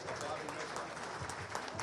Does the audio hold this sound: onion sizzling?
no